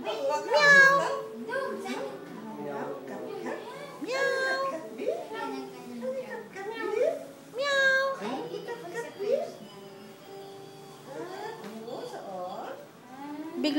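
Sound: cat meowing

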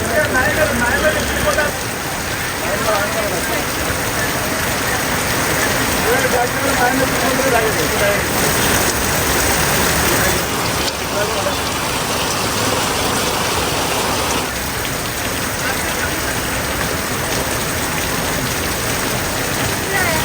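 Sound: short rain shower

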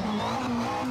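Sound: race car engine in the video game Assetto Corsa

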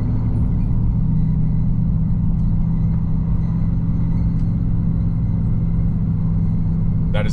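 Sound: pickup truck rumbling noise

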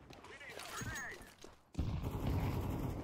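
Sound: gunfire in a video game

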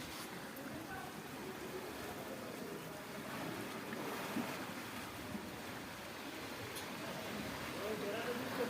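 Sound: river waves in flood

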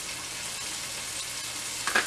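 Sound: ground beef sizzling in pan

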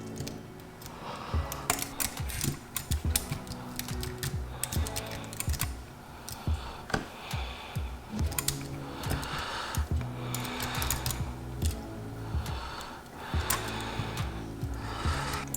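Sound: computer keyboard and mouse clicking while playing Destiny 2

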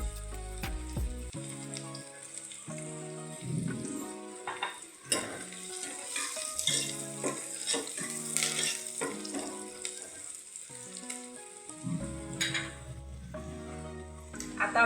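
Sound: frying onions with turmeric in a pan for wajri curry

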